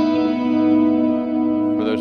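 A JHS 3 Series reverb pedal set to a big, deep, cavernous decay holds a sustained guitar chord washing loudly and evenly, with a brief bright strum near the end.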